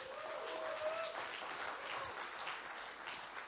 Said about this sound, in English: He can see you if you want to give him a round of applause.